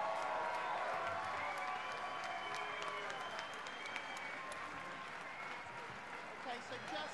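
Crowd applauding at a boxing fight night after a bout, a continuous wash of clapping heard from within the venue, gradually thinning, with an announcer's voice talking over it.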